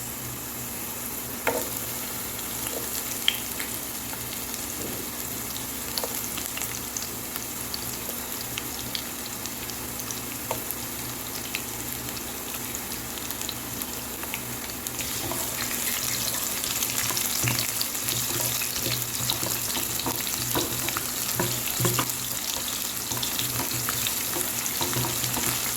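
Sliced onion frying in a pan for chicken-feet and gizzard adobo with sweet potato, a steady dense sizzle with occasional stirring scrapes and crackles, growing slightly louder partway through, no talking.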